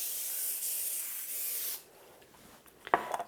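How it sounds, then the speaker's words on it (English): Cooking spray hisses onto a pan in one long, close burst before saltine crackers go down. A few soft clatters follow after it stops. "And we're going to spray it."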